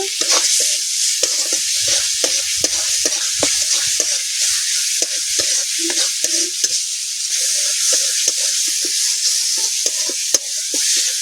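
Spice paste for a silver carp curry fries in oil with a steady loud sizzle, broken by frequent scraping stirs of a spoon against the pan, and no voices.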